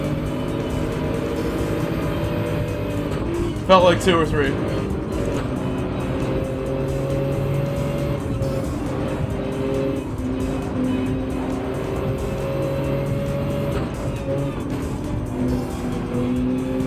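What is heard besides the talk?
race cars overtaking in the video game Gran Turismo 7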